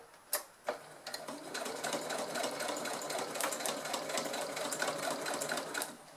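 A sewing machine stitches a zipped bucket bag, running in a steady, fast mechanical patter after a couple of sharp clicks at the start, fairly quiet and close, with no talking.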